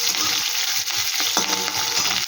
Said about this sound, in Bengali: এটাকে একটু ভাজা ভাজা করে নেব হালকা করে।